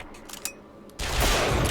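Gunfire in Bioshock Infinite: after a few faint clicks and taps, a sudden loud burst of rapid shots erupts and continues close up to the end.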